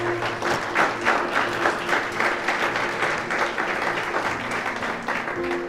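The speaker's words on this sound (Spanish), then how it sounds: "Yo le daría un aplauso al Señor." A crowd applauds steadily and loudly for several seconds, a dense wash of clapping with no voices standing out.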